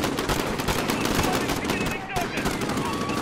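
Rapid automatic gunfire in Call of Duty: Modern Warfare (2019), a loud, unbroken stream of close shots with a voice talking over the battle.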